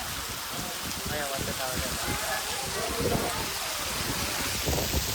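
Heavy rain falling on an outdoor scene with a JCB and tractor, a constant loud wash of droplets with people talking underneath.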